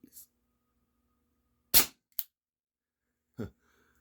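A Cybergun Baby Eagle airsoft pistol firing BBs outdoors, three sharp, close snapping shots spaced apart in otherwise near silence, with a faint tick of a BB striking shortly after one shot.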